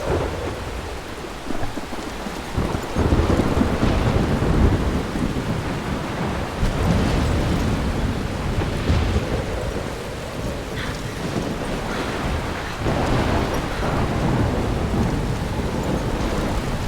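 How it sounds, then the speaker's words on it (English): A thunderstorm in the video game Life Is Strange, with steady heavy rain and deep rolling thunder rumbling on and off throughout, loud and continuous, with no voices. "I'm trapped in a storm?"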